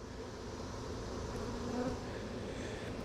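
Honey bees buzz in a dense, steady drone around an opened beehive, a continuous close swarm hum with no voices.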